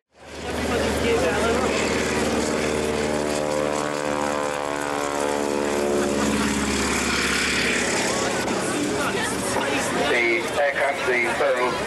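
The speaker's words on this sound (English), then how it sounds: "The Boeing Stearman, of course, is basically used as originally a training aircraft." A Boeing Stearman biplane, a former training aircraft, flies at a 1989 Barton airshow. Its propeller engine gives a continuous loud droning roar that swells and shifts in pitch as it passes, with a commentator's voice over it.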